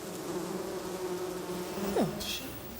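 Honeybees buzzing in a steady droning hum, close and continuous, with a brief rising whine as one bee passes near; no talking.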